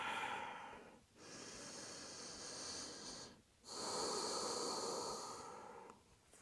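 A big exhale during a yoga forward fold: long, close breathy rushes of air, a first gust, a pause, then a second stronger and longer breath that slowly fades.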